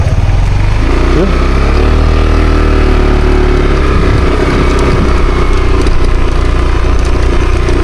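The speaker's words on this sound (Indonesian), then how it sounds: "Ini dari sepeda motor" A motorcycle engine runs steadily up close on a descent from Gunung Wedon in Lawang, a loud, continuous low drone that fills the whole stretch with no break.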